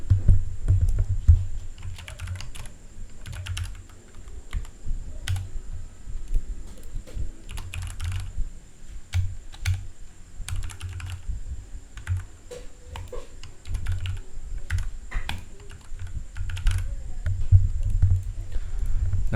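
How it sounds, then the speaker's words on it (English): Someone types text on a computer keyboard in a steady patter of close, soft key clicks that runs throughout. "And to start, I will type in here a few texts."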